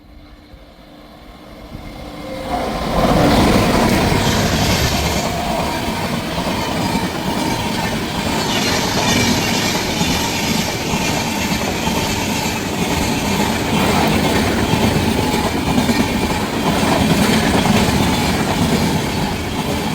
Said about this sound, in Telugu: 2261 అనేది న్యూ జల్పాయిగురి సూపర్ ఫాస్ట్ అయితే ఎక్స్ప్రెస్ అయితే వస్తుంది